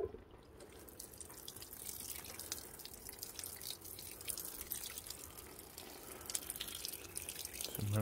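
Sunflower plants are watered, a close, soft splashing and trickling stream with dripping that runs steadily throughout, fairly quiet.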